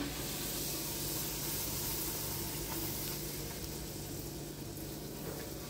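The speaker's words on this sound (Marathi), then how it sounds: "अनिरुद्ध इथे पुऱ्या फ्राय करतोय मस्त." Puris fry in hot oil at home, giving a continuous close sizzling hiss that stays fairly even throughout, with no talking.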